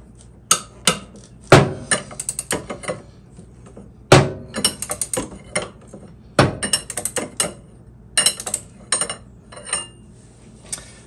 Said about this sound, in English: I'm gonna use a breaker bar just to make it easy and break that thing loose